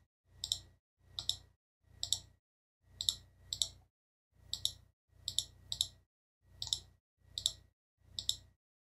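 Crisp, evenly spaced taps on an iPhone touchscreen keyboard click one after another, about a dozen short keypress sounds in an otherwise quiet room.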